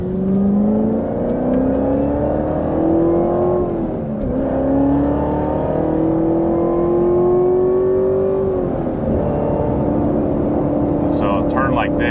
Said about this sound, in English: do listen to the engine. That exhaust note is pretty freaking awesome